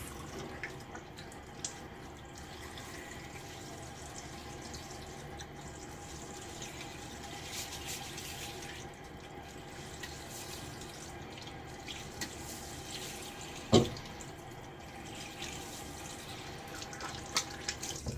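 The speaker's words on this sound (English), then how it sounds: "Final rinse." A bathroom tap runs in a soft, steady stream for a final rinse after a wet shave, with faint splashing and one brief louder knock or clatter partway through.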